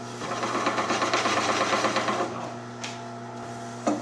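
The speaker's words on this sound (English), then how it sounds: "And I'll clean it off with a skew." Wood lathe spinning a table leg while a skew chisel shaves it clean, a steady mechanical hum with a rough cutting hiss, close and continuous, easing off near the end, no talking.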